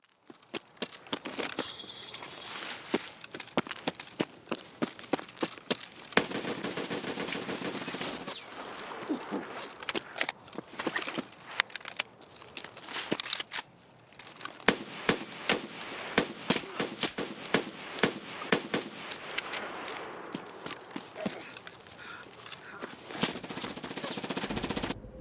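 Rapid gunfire from a VPO-209 rifle in Escape from Tarkov, loud cracking shots fired in quick bursts and strings across a long firefight, with no talk.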